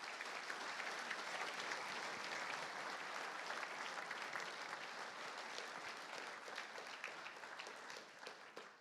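A luncheon audience at an Olympic event gives an Olympian panel sustained applause, a steady wash of many hands clapping at fairly low level, with no talk.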